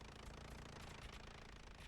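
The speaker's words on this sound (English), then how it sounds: "I hear an engine." A First World War plane's rotary engine drones in Battlefield 1, a faint but continuous, rapid buzzing rattle that stays steady and unbroken throughout the brief moment, with no talking.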